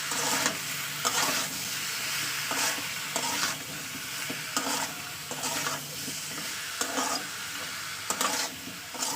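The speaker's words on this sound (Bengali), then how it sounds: "এবার এটাকে ভালো করে কষিয়ে নেব" Curry with spices stir-fried in a pan, a continuous sizzle with repeated rhythmic scraping strokes of a spatula roughly every second, close and clear with no talking.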